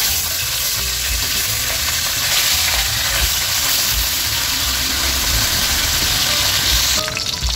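Tilapia fries in hot oil with a loud, continuous close-up sizzle as the fish is flipped, and a short clatter comes near the end.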